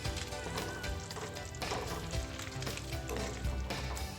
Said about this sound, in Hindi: जो मैंने चॉप की हुई प्याज थी वो मैं इसमें ऐड कर दूँगी। और इसको मैं अच्छे से मिक्स कर दूँगी।